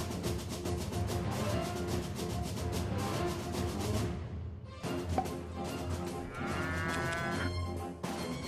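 Cows moo repeatedly over a busy, rhythmic soundtrack in the video game Rock of Ages 2, the lowing calls overlapping at moderate volume with a brief dip midway.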